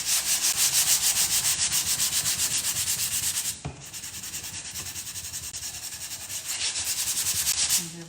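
Sandpaper rubbing wax off a wooden farmhouse sign, steady rhythmic back-and-forth scraping strokes close up, briefly pausing midway before resuming, with no voices.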